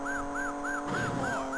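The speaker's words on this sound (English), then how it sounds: "We've now got our police siren." A police siren in the Amiga game Chase HQ wails in a fast, regular electronic whoop, repeating about six times over a steady droning engine tone with a rougher noise burst midway.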